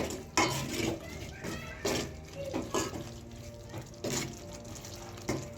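A spoon stirs dark soy sauce in a cooking pot while making Kenyan kebab, producing a series of light metallic scrapes and clinks in uneven strokes at a fairly low level.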